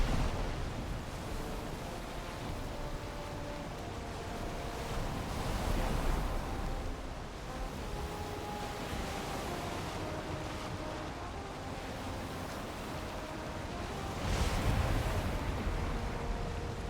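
A boat sailing across the sea in Valheim, with soft continuous wash of waves and wind, low and even, swelling gently twice.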